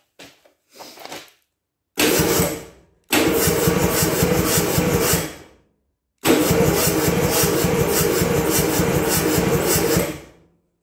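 An engine cranking over in several separate bursts, each a loud rhythmic starter churn lasting a few seconds, preceded by short faint clicks and separated by silence, without catching.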